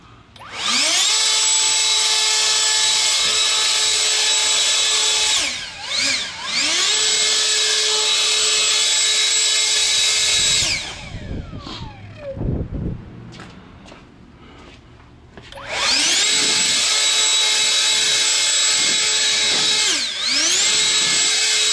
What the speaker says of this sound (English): You could keep the blower farther away and it'll still do the job with not even using full power.